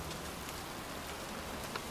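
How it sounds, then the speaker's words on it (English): Rain falls steadily in the Heavy Rain video game, an even, dense hiss of rainfall in a cold outdoor scene, with no talk and only a faint brief tap near the end. "It's cold. It's raining. I'm standing outside getting soaked."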